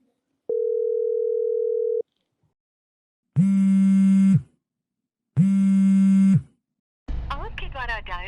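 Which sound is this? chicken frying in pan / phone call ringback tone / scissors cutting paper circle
phone call ringback tone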